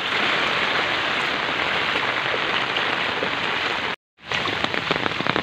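Heavy rain from Typhoon Carina and the monsoon pours down hard on surfaces amid flooding, a dense, loud, unbroken hiss that cuts out briefly before resuming just as strong.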